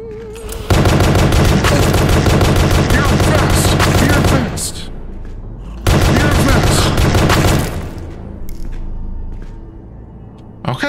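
Gunfire in the video game Pony Factory: two loud, close sustained bursts of rapid automatic shots, each lasting a few seconds, separated by a brief pause, with faint talk at the start and end.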